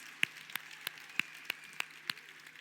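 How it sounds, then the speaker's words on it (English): A handful of slow, evenly spaced single handclaps at an education programme launch event, about seven sharp claps over a couple of seconds, faint and thin rather than a full crowd ovation. "Let's give Rulani a final round of applause, please"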